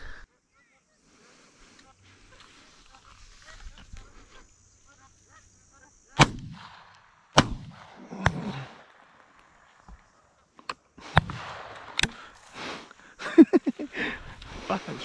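Shotguns fire at magpie geese during a hunt, with several sharp, loud reports spaced across the second half, some in quick succession, against quiet outdoor background with faint wind and occasional voices.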